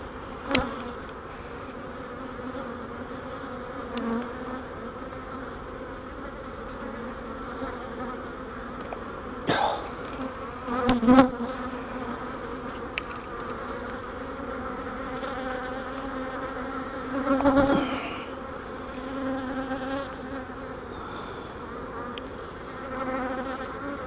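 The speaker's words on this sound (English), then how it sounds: "But there's a lot of bees in here though, huh?" A dense, continuous drone of many honey bees buzzing close by during a hive inspection, with individual bees flying past louder now and then.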